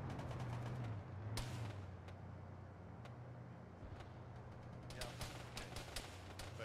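Gunfire in the Arma military game during a ShackTac session: scattered sharp shots ring out, clustering into quick bursts near the end, over a steady low rumble with a brief voice.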